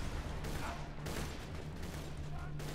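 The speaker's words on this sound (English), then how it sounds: "people are shooting at me" Dense gunfire in the video game Borderlands 2, a steady crackling barrage of shots running continuously with game noise and a low hum underneath.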